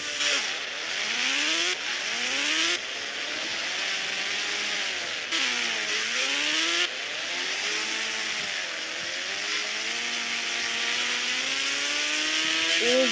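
Simulated motorcycle engine from an Indian bike driving video game, a loud continuous synthetic drone whose pitch rises and falls repeatedly with gear changes and throttle, heard alone.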